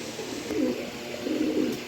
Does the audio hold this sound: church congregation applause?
no